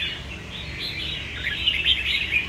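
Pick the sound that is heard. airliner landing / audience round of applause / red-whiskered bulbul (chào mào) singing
red-whiskered bulbul (chào mào) singing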